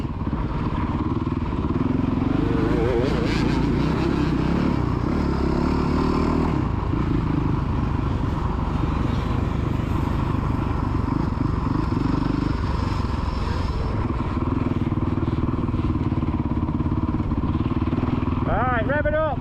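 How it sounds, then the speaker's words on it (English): A child's motocross dirt bike on the Astley MX main track revs and drones continuously, loud and close, rising and falling in pitch, while an adult calls out encouragement over it. "That's it, rev it up."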